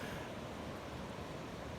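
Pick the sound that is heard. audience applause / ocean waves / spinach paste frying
ocean waves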